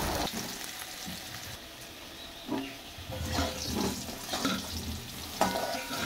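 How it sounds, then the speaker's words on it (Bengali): Potatoes fry in a pan with a continuous low sizzle, broken by occasional scraping and stirring knocks, close by and without talk. "আলুটা আমার দেখো সুন্দরভাবে লাল লাল করে ভাজা হয়ে গেছে"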